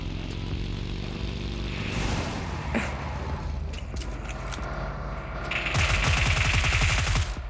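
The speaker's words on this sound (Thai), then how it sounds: "ยิงไปก่อนขู่ไปก่อน" Gunfire in the mobile game PUBG Mobile, with rapid bursts of shots over a steady engine-like hum, growing denser and louder near the end.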